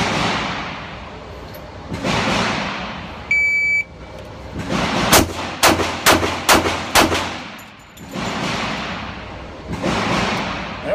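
A .45 ACP pistol fired at a target, a string of about six sharp, loud reports in quick succession over steady outdoor noise, with a brief beep before them.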